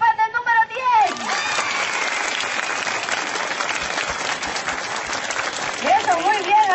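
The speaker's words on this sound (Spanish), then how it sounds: "Solo serán aplausos." Applause from an audience at a children's holiday camp contest for participant number 10, a steady, dense clatter of many hands sustained for several seconds, with a voice speaking briefly before and after it.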